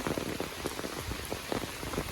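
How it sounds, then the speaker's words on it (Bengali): Heavy monsoon rain in a village pattering densely and steadily on a surface, a continuous close downpour with no voices. "মুসুলধারে বৃষ্টি হচ্ছে সকাল থেকেই"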